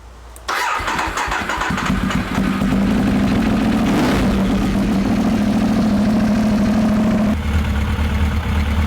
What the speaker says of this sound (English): now I'm going to start the bike and let it run for a couple of minutes